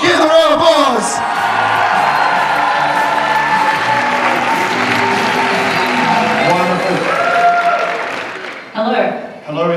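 Loud applause at a cosplay contest on stage, with a crowd clapping steadily under whoops, shouts and cheers. Voices carry over the clapping throughout, and the sound fades near the end.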